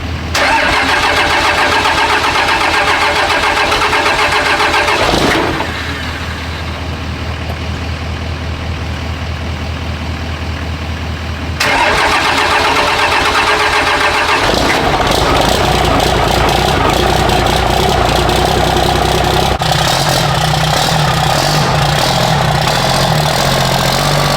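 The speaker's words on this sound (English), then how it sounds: "I guess the real test is to see if this Cummins will actually start" A Cummins 6.5L diesel in a truck cold-starts in extreme cold: loud cranking and a stumbling catch, a brief lull, then a heavy, rough diesel idle that runs on steadily, close and alone.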